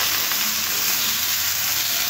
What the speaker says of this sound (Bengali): সব কিছু ভালো করে একটু কষে নিতে হবে সবজিগুলো, তাতে কাঁচা গন্ধটা চলে যায়।